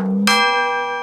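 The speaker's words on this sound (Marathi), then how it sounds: "घंटी वाजाडतो रे" A single bell is struck once and rings out loud and clear, its bright metallic tone sustaining and slowly fading, with no voices over it.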